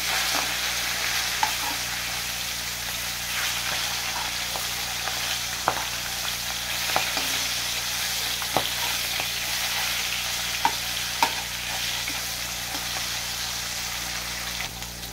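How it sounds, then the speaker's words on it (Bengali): Fish fries in hot oil with a constant crackling sizzle, punctuated by occasional sharp clicks and taps from a utensil turning the pieces. "মাছটাকে ভেজে নেবো লালচে লালচে করে"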